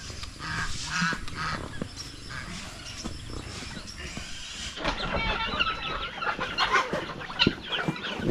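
Native chickens cluck and chatter on a farm, most busily in the second half, with a steady outdoor background throughout.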